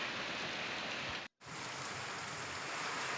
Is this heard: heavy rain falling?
yes